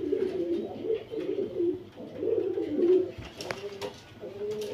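A male Kaldam pigeon coos in repeated low, throaty rolling phrases, close and fairly soft, with a few faint background knocks.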